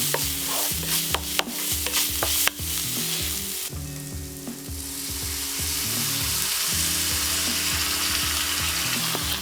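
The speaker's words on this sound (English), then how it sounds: "Give it a mix and we can add our tinned tomato." Tinned tomato being stirred into a flour-thickened sauce in a pan, with steady sizzling, a few sharp utensil clicks early, then a continuous louder hiss and frying crackle alone.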